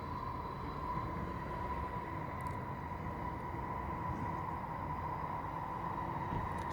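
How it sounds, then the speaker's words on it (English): A steady, continuous low rumble with a faint tonal hum holds constant throughout, like a train running past at moderate distance. "oh, there's the train."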